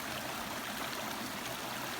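A mountain stream of natural water flows in a steady, faint, unbroken rush, with no voices over it.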